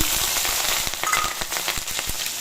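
Bay leaf, cumin, dried and green chillies hitting hot oil in a pan for tempering, a loud, dense, close sizzle with rapid irregular crackles and pops throughout.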